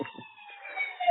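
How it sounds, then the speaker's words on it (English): A distant emergency siren wails in the background, its steady tones rising faintly over a quiet scene for about a second. "Oh, there's the Daily Siren."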